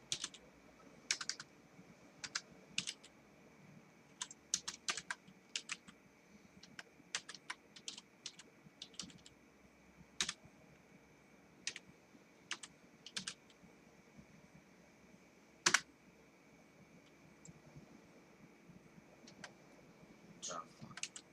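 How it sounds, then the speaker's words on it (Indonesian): Computer keyboard keys clatter in irregular bursts while Java code for a programming assignment is typed, crisp close clicks over a quiet room tone, with a voice faintly present at times. "itu dengan mengetik ulang kode seperti yang di atas"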